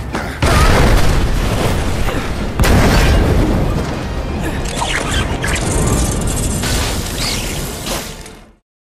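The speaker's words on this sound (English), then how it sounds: "Cloud, Tifa, and Barret attempt to bomb the Sector 5 reactor" A bomb blast at the Sector 5 reactor in Final Fantasy VII, heavy booms and rumbling debris that surge twice and roll on before cutting out.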